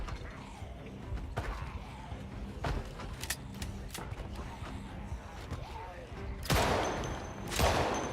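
Gunfire in the zombie survival game Project Zomboid comes as scattered sharp shots and mechanical clicks of reloading, moderately loud, with a burst of louder noise toward the end.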